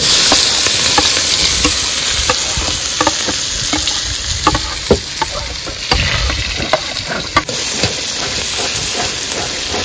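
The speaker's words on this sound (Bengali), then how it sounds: "মাছের ডিমটা ভাজবো আলাদা, তার জন্য আগে পেঁয়াজ কুচি দিয়ে নিচ্ছি।" Chopped onions sizzle in hot oil in a pan ahead of frying fish roe, a loud steady hiss broken by scattered crackles and spatters, with no voices.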